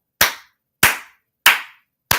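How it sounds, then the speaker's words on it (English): Four sharp hand claps, evenly spaced about two-thirds of a second apart, each loud and close with a quick decaying tail, with silence between them. "I got to clap on that"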